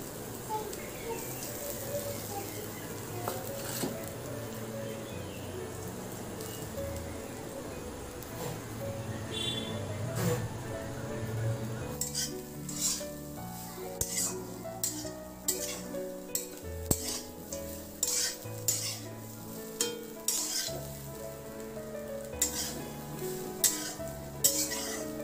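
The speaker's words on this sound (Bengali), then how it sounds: "আমি শুকনো কড়াইয়ে নারকেলটা একটু নেড়ে নেব" Grated coconut is stirred in a dry wok over low heat, a soft continuous scraping and rustle with a spoon that later turns into sharper, rhythmic clinks and scrapes against the pan, close and fairly quiet.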